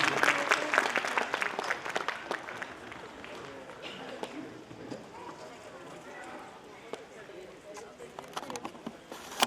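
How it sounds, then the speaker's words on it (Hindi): Audience applause at an inauguration ceremony for a Brahma Kumaris centre in Nangloi, Delhi, loud at first and then settling into steadier clapping, with a voice talking over it. "जोरदार तालियां बजाकर के इस कुमारी का उमंग उत्साह बढ़ाते हैं।"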